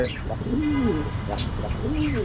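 Pigeons in a loft coo in low, rolling phrases close by, with two clear calls rising over a soft murmur of background noise.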